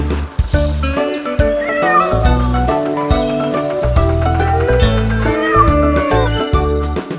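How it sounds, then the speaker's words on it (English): A cartoon cat meows repeatedly in a sung farm nursery rhyme about a tractor, several rising vocal meows woven into a bright, loud musical backing. "The cat on the tractor goes meow, meow, meow"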